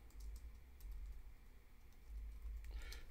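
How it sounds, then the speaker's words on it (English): A search phrase gets typed on a computer keyboard, a few faint, light key taps under a low steady background rumble, with no talking. "we could type in like how to collect"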